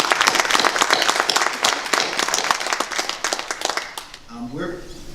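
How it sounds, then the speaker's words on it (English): An audience at a Democratic 9th Congressional District candidates' forum applauds steadily with dense clapping, then the clapping fades and a voice begins speaking near the end. "So I want to applaud these candidates."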